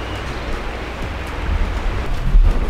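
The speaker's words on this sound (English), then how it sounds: "It is raining." Rain falling at an eco resort in Munduk, Bali, a steady broadband patter with low rumbling underneath, loud and close, growing slightly heavier toward the end.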